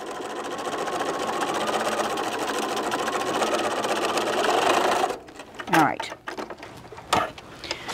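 A sewing machine stitching fabric runs steadily and loudly for several seconds with a fast mechanical whir, then stops, leaving clicks and handling noises while someone talks over it.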